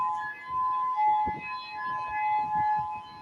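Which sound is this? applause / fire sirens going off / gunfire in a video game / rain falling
fire sirens going off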